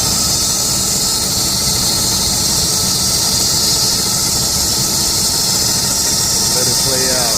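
A 2003 Lincoln Navigator engine runs close and loud, a steady, hissy drone with a belt-and-pulley squeal mixed in and faint chirps rising near the end.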